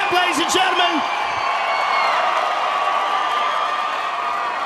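An arena crowd at the UFC 175 Weidman vs Machida weigh-in roars loudly, with a brief whoop at the start and then a dense, sustained wall of cheering and jeering.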